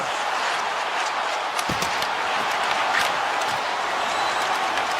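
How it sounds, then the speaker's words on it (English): A crowd of hockey fans cheers in the eHockey video game, a steady, loud arena roar with a few scattered thumps and claps throughout. "the home team giving the fans something to cheer and get loud about. Listen to them"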